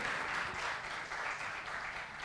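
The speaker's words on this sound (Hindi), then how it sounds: "एक बार जोरदार तालियां हो जाएं हमारे सभी अतिथियों के लिए" An audience applauding guests at a university lamp-lighting ceremony, a dense sustained burst of clapping from a crowd in a hall, steady and loud throughout.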